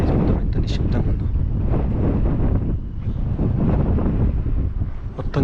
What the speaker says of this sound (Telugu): మొత్తం గాలి సౌండ్ వస్తుంటుంది.